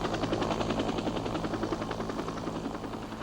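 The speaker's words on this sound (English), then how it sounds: "All afternoon, choppers landed on the rooftop and in the secure compound below" Helicopters setting down on an embassy rooftop and compound during an evacuation, a steady loud rotor chop with rhythmic blade thumping over dense engine roar throughout.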